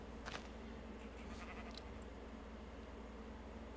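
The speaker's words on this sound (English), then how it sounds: "Oh, is that a sheep? Yeah, there's sheep's here." A sheep in a video game gives a couple of short, faint bleats over a steady low hum, with no talking.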